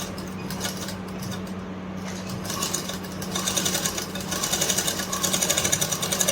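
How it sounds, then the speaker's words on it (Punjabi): Sewing machine stitching the seam of a kurta, a steady mechanical whir with a constant hum that grows louder and more rapidly pulsed toward the end, running alone without voices. "ਇੱਕ ਵਾਰ ਚ ਇਹਨੂੰ ਆਪਾਂ ਨੇ ਸੀਨ ਲਗਾ ਲੈਣੀ ਹੈ"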